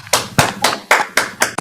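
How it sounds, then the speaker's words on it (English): Participants in an online poetry meeting applaud, heard as about six sharp, evenly spaced claps over a couple of seconds, close and fairly loud. "Give Hiram a great big round of applause."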